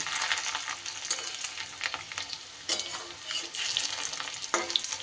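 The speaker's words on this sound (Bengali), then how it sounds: "সমস্ত ডিমগুলো আস্তে আস্তে উল্টিয়ে এপিট ওপিট করে আমি ভেজে নেব" Fish egg fritters fry in oil in a pan with a loud, continuous crackling sizzle, with occasional sharper pops and scraping as the pieces are turned, and no voices.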